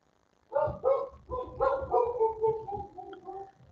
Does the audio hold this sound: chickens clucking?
no